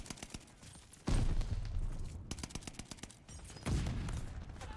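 NZ-41 assault rifle firing in the video game Call of Duty: Vanguard, with rapid bursts of close, punchy shots and two heavier blasts among them, all against layered combat noise.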